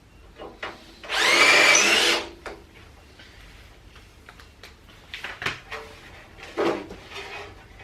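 A power drill bites into a rivet on a car bumper with one loud, whining burst of about a second, followed by quieter scraping, clinks and short rasps as the rivets are worked loose.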